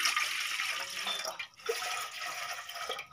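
Water runs into a vessel while jowar roti is being made, a soft, close, continuous splashing pour with small gurgling dips, fairly faint overall.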